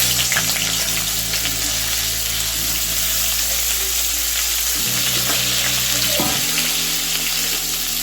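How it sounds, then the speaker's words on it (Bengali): Steamed cauliflower florets fry in hot oil for a Bengali bori curry, giving a loud, continuous close sizzle with stirring scrapes and a low burner rumble that shifts a few times. "এখন আমি ভাপিয়ে রাখা ফুলকপিগুলো ভেজে নেব ভালো করে।"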